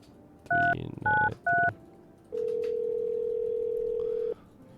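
Telephone keypad tones: three short dual-tone beeps in a quick, evenly spaced burst, then one long steady tone held for about two seconds, loud and clear with no talk over them.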